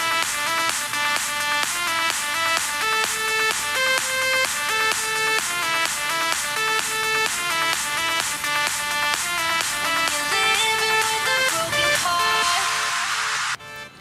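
A song's upper midrange isolated with heavy, fast-attack compression, giving dense, steady synth-like chord and melody tones at an even loudness with a regular pulsing rhythm, ending in a noisy swell.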